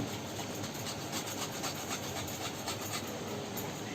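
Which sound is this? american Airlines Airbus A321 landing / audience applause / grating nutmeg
grating nutmeg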